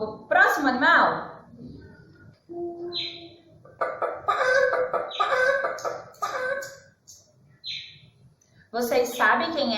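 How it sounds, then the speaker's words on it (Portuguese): Chicken clucking in several short bursts, fairly close and clear, with a voice speaking in the gaps between them, in a children's animal-sounds quiz. "galinha"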